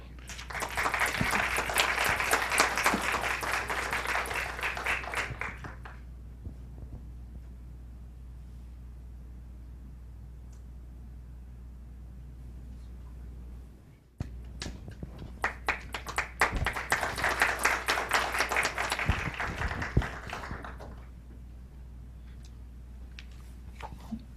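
Two separate bursts of audience applause fill a county board of commissioners meeting room, each lasting several seconds, with quiet room hum and scattered small sounds between them.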